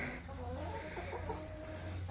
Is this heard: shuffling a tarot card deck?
no